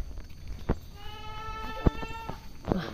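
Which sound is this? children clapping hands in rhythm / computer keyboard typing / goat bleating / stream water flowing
goat bleating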